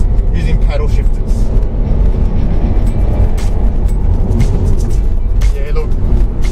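Subaru Levorg STI 2018 WRX wagon engine pulling steadily as it accelerates through paddle-shifted gears, a continuous loud drone with road and cabin noise underneath, with someone talking over it.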